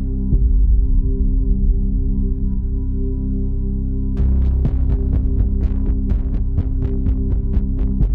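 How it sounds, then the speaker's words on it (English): A Harley-Davidson motorcycle engine idles as it warms up. It gives a steady low rumble and hum, then from about four seconds shifts into loud, rhythmic throbbing pulses, close and alone with no voices. "When I'm sitting on the bike, warming it up, excitement, that's what I feel"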